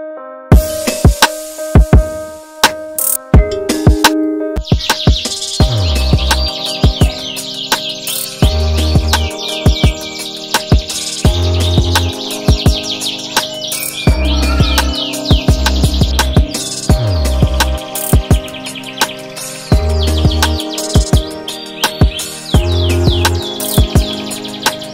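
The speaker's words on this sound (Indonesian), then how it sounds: "Kenari Lubuk Linggau udah mulai." Canaries prepared for a singing competition sing loud, continuous trilling songs with rapid chirps and warbles, joined by other birds and occasional low thumps in the background.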